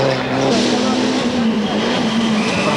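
A Mitsubishi Lancer VR4 rally car drives past at the 1992 Rally of Malaysia. Its loud, steady engine drone runs under a commentator's talk throughout.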